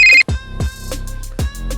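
A phone rings with repeated electronic tones, several short bursts in a row, loud and close with no talking.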